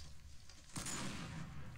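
In Minecraft with the Flan's gun mod, a sudden loud blast from a Barrett .50 cal sniper rifle's explosive ammo bursts in after a brief lull, followed by a sustained rumbling roar of explosions with crackling debris.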